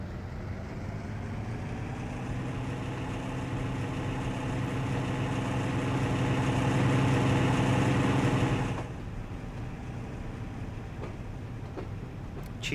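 A train engine in Train Simulator Classic on the Riviera Line runs with a steady droning rumble that swells gradually, then drops abruptly to a quieter hum with a few faint clicks.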